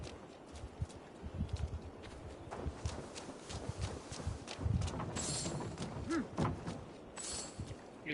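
A horse's hooves clip-clop at a walk in Assassin's Creed Valhalla, with irregular hoof thuds alongside game ambience and occasional louder bumps.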